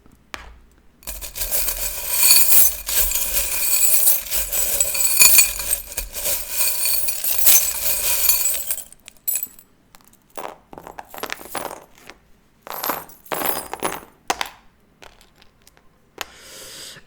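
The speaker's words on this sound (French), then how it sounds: "On va prendre quelques petites breloques pour" Small charm trinkets clink and rattle as they are handled, a dense bright jingling for about eight seconds, then scattered lighter clinks and taps.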